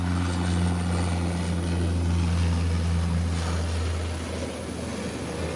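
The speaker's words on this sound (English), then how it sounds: "Can't miss the sound of those engines." Twin turboprop engines of an Embraer Brasilia EMB 120 roar steadily at takeoff, a loud, constant drone with a low propeller hum that eases slightly toward the end.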